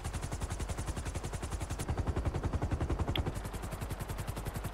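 A helicopter in GTA 5 Online on PlayStation 4 throbs with rapid, steady rotor chops, loud and continuous for the whole stretch, with no talking heard.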